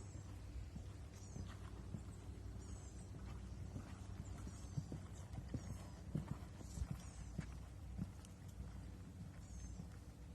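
A horse lopes around an arena, its hoofbeats falling in a faint, rhythmic clip-clop cadence over a low background rumble.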